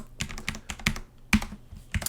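Close, bursty typing on a computer keyboard while writing PHP code, in short clusters of crisp key clicks with brief pauses between them, and no speech.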